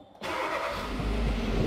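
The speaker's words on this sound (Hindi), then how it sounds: "अब मैंने गाड़ी को स्टार्ट कर रहा हूँ" A car's engine cranks and catches after a brief moment of near silence, then settles into a loud, steady idle rumble close by. The car has an A/C pressure switch fault and a compressor that won't engage.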